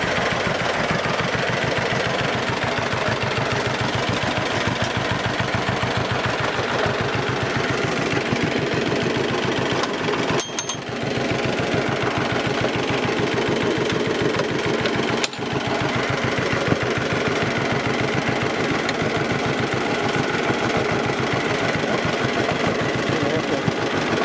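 A restored John Deere BW tractor engine runs steadily and loudly throughout, with a fast, even chugging rhythm and two brief dips in the middle.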